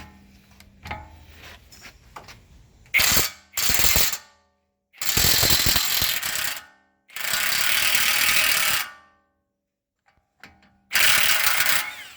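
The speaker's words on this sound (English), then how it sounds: "To remove the nut off the axle, we're using a 34" A ratchet with a 34 mm socket works the front axle nut on a 2010–2013 Range Rover Sport L320, giving several loud bursts of rapid clicking separated by silent pauses.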